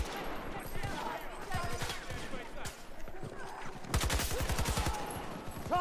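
Rapid bursts of gunfire from the Battlefield 2042 video game, including pistol shots, crackle in repeated volleys, loudest near the end, while players talk excitedly over the shooting.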